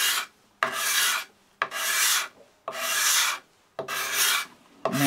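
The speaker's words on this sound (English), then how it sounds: "show you the card scraper at work on that as well" A steel card scraper drawn across a wood surface with sap lines and reversing grain, five long, loud rasping strokes in a steady rhythm, each separated by a brief pause, close up with no talking.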